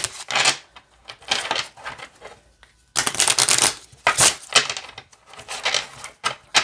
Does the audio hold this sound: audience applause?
no